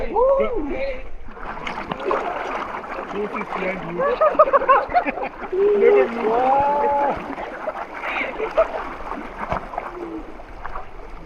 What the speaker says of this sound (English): This was also my very first time rafting and it was freaking awesome